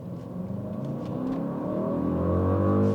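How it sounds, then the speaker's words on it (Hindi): A Mercedes-AMG GLE63S SUV accelerates hard from a stop in city traffic, its engine building from a deep rumble into a loud, rising roar that keeps climbing in pitch and volume, heard from inside the cabin. "मैंने एक्सीलेटर दबाया एंड मुझे लगा मैं 50-60 कर लूँगा, but this thing was dam quick"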